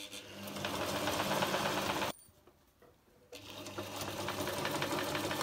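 A sewing machine runs steadily while stitching the seams of a folding reusable tote bag, pausing briefly about two seconds in before the dense mechanical whir resumes, close and loud.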